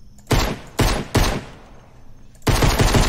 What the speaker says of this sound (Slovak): Dáme si ten digel, ako to strieľa.